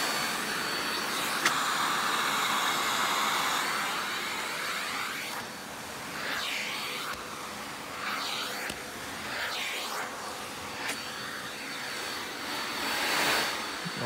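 A Tristar MG2 Tri-Lux canister vacuum cleaner running with its upholstery tool, a continuous airy whine and rush that dips and surges as the nozzle moves, fairly close and alone.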